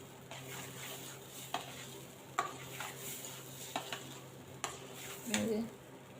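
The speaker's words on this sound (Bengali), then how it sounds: "একটু আদা বাটা দিয়ে ভালো করে চালগুলো ভেজে নেব।" Rice frying with salt and ginger paste in a pan, a soft continuous sizzle broken by repeated scraping stir strokes and light clinks of a utensil, close and fairly quiet with no talking.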